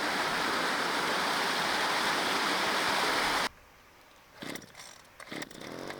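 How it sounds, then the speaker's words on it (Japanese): An old engine-driven water pump, found left in a shed at a rural Japanese farmhouse, roars loudly and steadily for about three and a half seconds, then cuts off abruptly, leaving quieter scattered clatter and rustling. "小屋に残されていたエンジンポンプ、奇跡的に使えました。"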